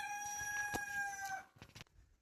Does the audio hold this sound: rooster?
yes